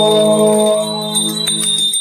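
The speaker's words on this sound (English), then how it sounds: "please ring the bell as you do so" A small ritual bell is rung during an incense offering, giving a bright sustained ring that fades, followed by a few lighter strikes, close and clear without talking.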